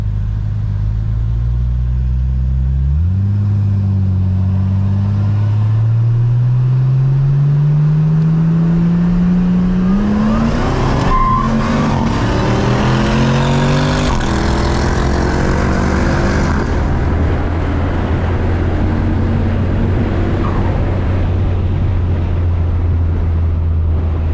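RB30 turbo race car accelerating on a track, a loud close engine drone rising steadily in pitch through the gears, then settling into a sustained high rumble with rough turbo texture.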